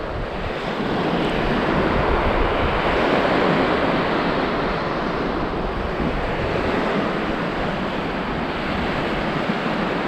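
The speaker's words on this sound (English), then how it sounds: "Those waves sound amazing." Ocean waves break continuously on a South Carolina beach just after a hurricane, a broad, loud roar of surf with wind buffeting the microphone, steady for ten seconds and free of any talking.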